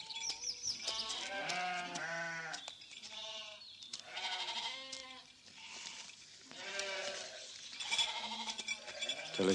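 A flock of sheep bleating repeatedly in overlapping wavering cries, several animals close by, with calls coming in uneven bursts and no talking.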